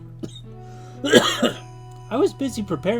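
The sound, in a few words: cough in a video game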